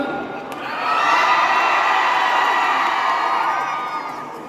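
A large audience at a cosplay contest during a convention cheers, whoops and shouts together in a loud, sustained roar that swells and then slowly eases off.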